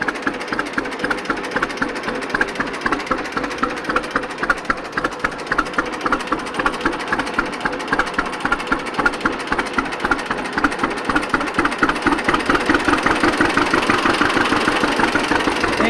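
An old engine at a cotton gin parade chugs at about 400 RPM, with steady rhythmic low thumps, loud and close, picking up slightly toward the end, with no voices.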